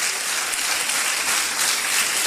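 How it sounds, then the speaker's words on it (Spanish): Audience applause at a team business meeting, a loud, dense burst of many hands clapping without pause. "Un fuerte aplauso para todos ellos."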